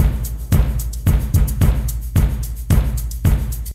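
Layered shaker percussion samples from Klevgrand's Skaka plugin in a country track, repeating in a steady rhythmic pattern with bright, crisp hits over a low thumping pulse, loud and up front.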